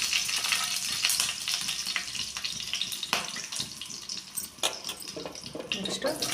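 Whole garam masala spices sizzle as they hit hot oil in a pan for gobi palya, a steady, close crackle with sharp pops and stirring scrapes throughout.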